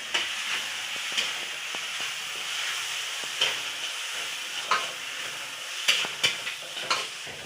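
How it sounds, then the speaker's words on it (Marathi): Spices frying in a pan for a prawn curry, a continuous close sizzle and hiss broken by repeated sharp scrapes and taps of a spoon stirring. "मसाले परतले आता मस्त"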